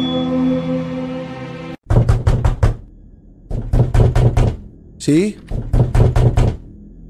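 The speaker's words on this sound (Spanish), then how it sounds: "¿Quién está dándole la puerta?" Loud, close knocking on a door in the horror video game Slender Mirror World comes in repeated rapid bursts of four or five raps each, after a sustained droning tone, with someone speaking briefly in Spanish.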